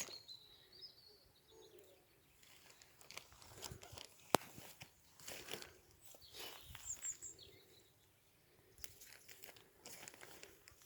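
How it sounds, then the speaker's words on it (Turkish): Birds sing outdoors in nature while someone picks tender sapling shoots, chirps scattered and faint at a distance over rustling and crinkling handling noises and footsteps nearby. "Kuş sesleri harika."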